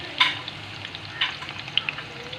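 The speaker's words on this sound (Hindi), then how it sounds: "इसमें मैं अब ये प्याज को फ्राई करूँगी।" Onions frying in hot oil in a pan for kadhi pakora, a close crackling sizzle with a few sharp pops and spatters, no voices.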